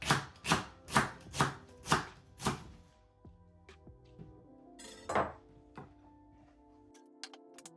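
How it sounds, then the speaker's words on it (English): A knife cuts leeks lengthways on a chopping board for Bulgarian kavarma in a traditional clay pot, six steady, crisp thuds close up, then a pause and a few lighter clinks and taps. "Leeks all sliced through lengthways."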